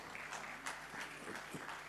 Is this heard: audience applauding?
yes